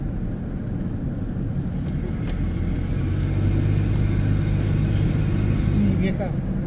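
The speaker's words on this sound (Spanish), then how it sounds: "sí está movidito aquí el tráfico y todo" Steady road traffic in Goshen, Indiana, a continuous low rumble of passing cars with a brief swell midway, heard from close by with people talking over it.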